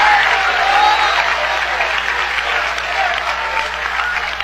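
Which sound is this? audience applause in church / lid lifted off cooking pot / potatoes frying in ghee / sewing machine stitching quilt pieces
audience applause in church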